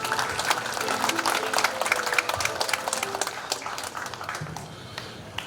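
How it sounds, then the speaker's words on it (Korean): Audience at a clan association general meeting held at a Confucian academy gives warm applause to welcome a speaker, a dense burst of clapping that starts strong and gradually tapers off. "따뜻한 박수로 맞이해 주시기 바랍니다."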